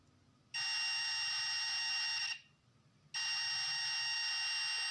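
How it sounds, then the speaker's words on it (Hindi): A multimeter in continuity mode gives two long, steady, loud electronic beeps, separated by a brief gap, while it checks the wiring of a Honda Shine BS6 fuel-injected motorcycle. "तो इसमें भी बीप का साउंड आ रहा है।"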